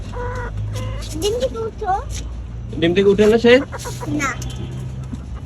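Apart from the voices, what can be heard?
hen clucking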